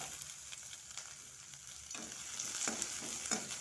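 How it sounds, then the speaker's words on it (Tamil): Chana dal, dried chillies, garlic and onion frying and sizzling in hot oil in a pan, a steady close hiss with occasional stirring scrapes and sharper crackles, no voices. "ஒரு பேனில் எண்ணெய் விட்டு கடலைப்பருப்பும் வத்த மிளகாவும் போட்டு செவக்கிற வரைக்கும் வெயிட் பண்ணுங்க."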